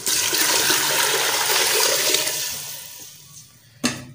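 Roughly one and a half litres of water poured into a pressure cooker holding fried red beans, a loud, close, continuous gushing splash that slowly tapers off, followed by a brief sharp clatter at the end.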